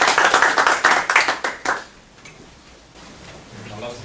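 A lecture audience of emergency medicine staff applauds, a burst of clapping lasting under two seconds before fading into quiet room tone.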